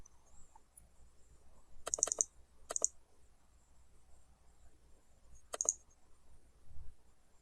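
Sharp computer keyboard key presses in small clusters, each a quick clatter, close and clear in a quiet room, with a longer pause between the first two bursts and the last.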